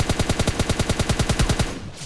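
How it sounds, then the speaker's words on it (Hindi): A Tommy gun firing in PUBG Lite, one sustained burst of about sixteen rapid, evenly spaced shots, loud and close, then cutting off abruptly. "तभी यहाँ पर मेरे को टॉमी का साउंड आता है"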